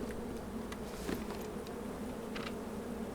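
Bees drone steadily around a beehive in the H1Z1 survival game, a continuous close buzzing with a few brief louder passes flitting by.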